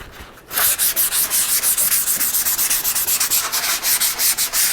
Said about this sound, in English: I've been spending a little bit of time here this morning sanding it and getting everything ready for the second coat